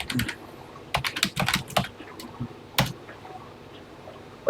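Keys on a TI-99/4A computer keyboard are tapped in short irregular bursts, close and fairly quiet, with brief pauses between clusters of clicks.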